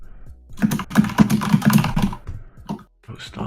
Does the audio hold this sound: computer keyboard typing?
yes